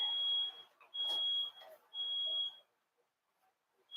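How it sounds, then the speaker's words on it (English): A smoke detector goes off in a kitchen where a Cajun roux is cooking for Thanksgiving turkey gravy: three loud, piercing electronic beeps with short gaps, a fourth starting at the end, over faint background sounds. "I did not take down the smoke detector."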